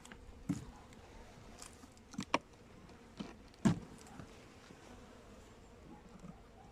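Honeybees buzzing during an inspection of a weak hive, checking food stores and brood, a soft constant drone with a few louder close passes and faint knocks from handling frames.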